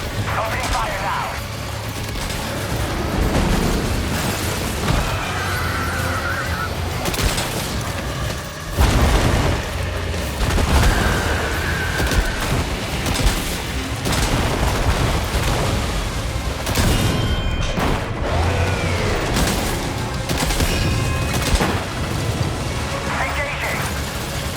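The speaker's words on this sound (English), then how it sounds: "Opening fire now." Sustained gunfire and heavy booms in Death Stranding 2: On the Beach, played on PS5 Pro, with loud dense bursts and impacts continuing throughout over a constant rumbling game mix.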